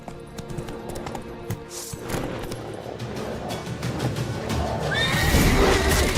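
Roach, the horse in The Witcher 3 video game, whinnies over rhythmic hoofbeats and mist-laden ambience, the neigh rising loud and close near the end.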